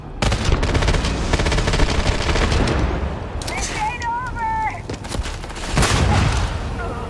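Starfield combat: sustained bursts of gunfire and heavy booms, with a grenade blast in the mix. The shooting runs loud and continuous, eases midway, then swells again near the end.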